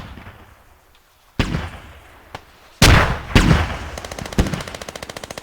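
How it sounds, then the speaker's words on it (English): Rocket artillery fires in the distance during a video game battle for West Petrovka: several sharp booming blasts, then a fast regular train of launches at the end, over a quiet rumbling background. "I can hear rocket artillery going off in the distance."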